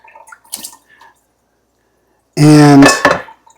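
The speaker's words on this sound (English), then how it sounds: "We're going to go ahead and put a little water on this." Water splashes onto a carbon steel pan in a kitchen, a short loud pour-and-clatter burst after a few faint clinks and a brief pause.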